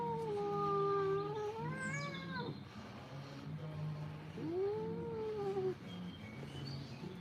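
A cat yowling while being groomed, two long wavering moaning cries with rising and falling pitch, fairly close, separated by a short pause.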